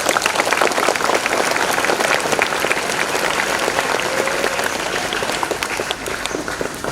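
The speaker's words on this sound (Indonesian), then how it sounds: "Tepuk tangan dulu." Audience applause at an official land grant signing ceremony for an Indonesian state Islamic school, a loud, sustained wash of many hands clapping together, steady for about seven seconds with no talk over it.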